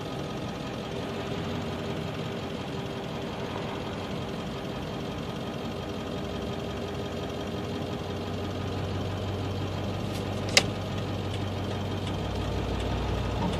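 A car engine idles with the foot off the brake, giving a steady, close low rumble with an uneven bumping knock and one sharp click near the end.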